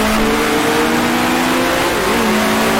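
A 1966 Formula One race car engine in Grand Prix Legends, at the Syracuse Grand Prix, drones loud and steady with a sustained high whine. Pitch shifts briefly as gears change, and the engine stays close and continuous throughout.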